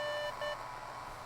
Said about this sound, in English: Is this Morse code?